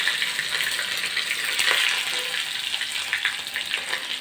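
Mustard seeds, cumin, curry leaves and green chili crackle and sizzle in hot oil for dhokla tempering, a steady close hiss with scattered pops throughout.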